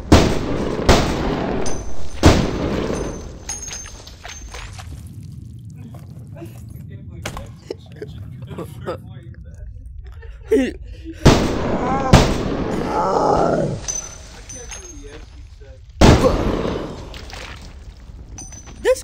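Gunfire from a gun in the video game Blood Trail, several sharp loud shots spaced apart, some in quick pairs, with quieter gaps, groans and game sounds between them.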